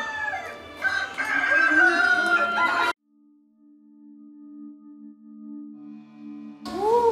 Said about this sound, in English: look at chicken!